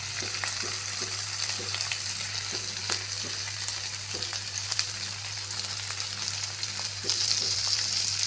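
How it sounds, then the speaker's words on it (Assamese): Dry fish sizzle in hot oil in a wok, a steady crackling hiss with scattered sharp pops and stirring scrapes, close and continuous throughout, with no voices. "ইয়াত মই শুকান মাছকেইজনী ভাজি ল'ম প্ৰথমতে।"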